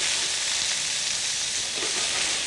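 Peeled shrimp dropped into hot oil with golden garlic fry with a loud, steady, dense sizzle that holds even and unbroken throughout, close up and with no talking over it.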